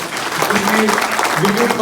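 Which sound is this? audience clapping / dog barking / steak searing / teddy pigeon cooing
audience clapping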